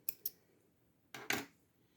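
Two quick, crisp snips of scissors trimming the thread tail on handmade beaded sunflower earrings worked in brick stitch, each cut sharp and close, separated by near silence.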